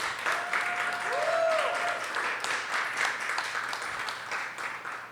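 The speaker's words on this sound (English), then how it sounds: "So a round of applause to this gentleman." Audience applause at a developer relations event, steady clapping from a crowd across the whole stretch, with faint voices and a brief tonal sweep mixed in.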